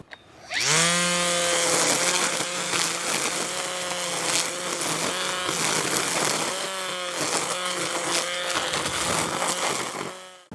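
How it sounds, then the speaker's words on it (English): Bosch GRT18V-40 16-inch cordless string trimmer starts up and runs steadily at close range, a loud motor whine with faint rhythmic variations over about ten seconds, no talking. "this one's the GRT18V-40. It's a 16-inch string trimmer."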